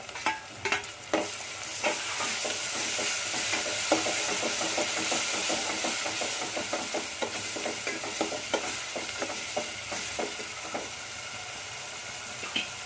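Tomatoes going into sautéed onions in a pan, with a steady frying sizzle throughout and a spoon scraping and stirring in repeated clicks and knocks, close up with no talking.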